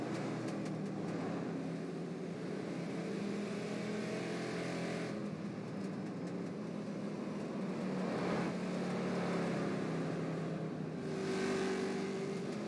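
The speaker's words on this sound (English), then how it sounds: "car noise now." Street stock race car engine in the iRacing sim at Langley Speedway, a steady moderate engine drone that swells and eases as the throttle changes, with no talk over it.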